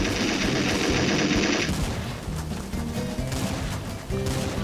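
Rapid pistol shots in Gmod Trouble in Terrorist Town fire in a fast, loud string at first, then the sound drops to duller thuds and game noise, with no one talking.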